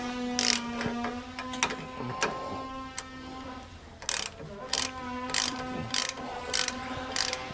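Ratchet wrench tightening the bolts of a Roadmaster front anti-sway bar on a 2008 Winnebago Destination motorhome: close, sharp bursts of rapid clicking repeated in short strokes, with a steady hum underneath and no talk.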